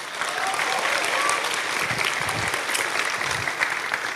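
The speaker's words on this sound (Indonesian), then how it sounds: "Tepuk tangan dulu dong buat guru PAUD nih." Steady, dense applause from an audience at a university lecture, clapping continuously and fairly loud throughout with a faint crowd murmur underneath.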